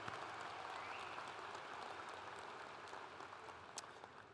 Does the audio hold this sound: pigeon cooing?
no